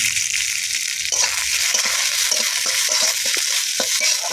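Chopped onion, curry leaves, bay leaves and green chili are stirred in hot oil in a pan, giving a loud, steady sizzle with soft scraping strokes of the spoon throughout.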